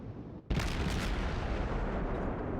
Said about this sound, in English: And I start firing at this carrier.